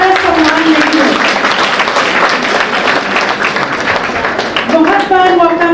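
Audience applause at a student award ceremony honouring achievers, a dense, steady wash of clapping lasting throughout, loud and close, with voices mixed in underneath.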